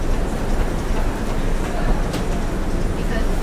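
Subway train riding toward Penn Station, a steady loud rumble of wheels and car noise filling the whole stretch, with voices talking faintly underneath.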